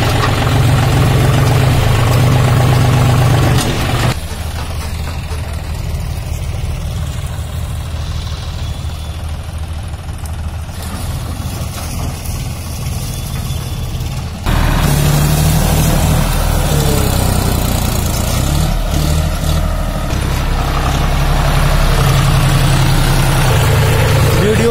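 A 2021 John Deere 5205 tractor engine runs steadily with a low, droning rumble that drops to a quieter idle partway through, then revs back up loudly to 3000 RPM.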